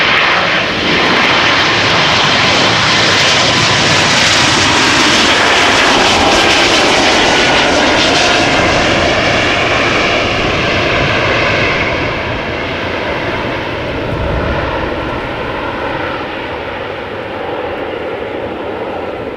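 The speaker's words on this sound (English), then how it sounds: "E2 Embraer to Dublin first." Embraer E2 jet airliner taking off from Amsterdam Schiphol, bound for Dublin, a loud, close, broadband engine roar sustained throughout and easing slightly toward the end, with no talk.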